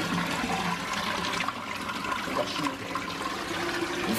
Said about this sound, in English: got a flushing toilet.